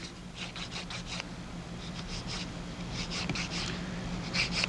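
A file or sanding board rubs across the surface of a sculptured acrylic nail in short repeated strokes, several quick rasping bursts in groups, close and fairly soft, with no voice.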